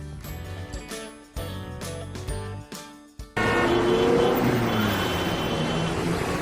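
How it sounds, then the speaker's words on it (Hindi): Road traffic with car engines rumbling and revving, starting with broken bursts of engine and horn-like tones, then turning into a loud, continuous wash of busy traffic noise. "Sound of vehicles and traffic यानी गाड़ियों के इंजन और ट्रैफिक का शोर।"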